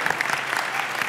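A studio audience at a TV game show claps in a brief, dense burst of steady applause, close and fairly loud.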